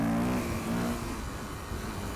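A Yamaha WR400F dirt bike engine roars hard under throttle on a green lane, pulling a power wheelie, loud and close with a steady, rasping drone throughout.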